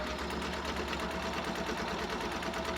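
A sewing machine stitches a pleated cloth face mask with red top thread and a yellow bobbin, a steady, rapid mechanical whirring and ticking at moderate volume, with no voices.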